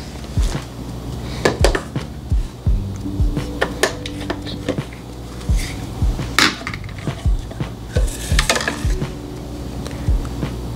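Ninja Creami Deluxe bowl being released and pulled from the machine, giving a string of sharp plastic clicks, clunks and knocks at close range, some in quick pairs, over a steady low motor hum.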